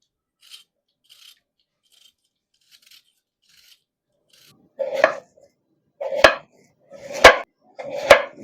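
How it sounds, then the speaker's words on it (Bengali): Medium-sized potatoes are peeled by hand. A few faint scrapes at first give way to four louder, rhythmic rasping strokes, each about a second apart. "আলুর খোসা ছাড়িয়ে নেব।"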